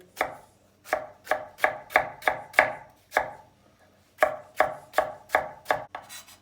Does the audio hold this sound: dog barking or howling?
no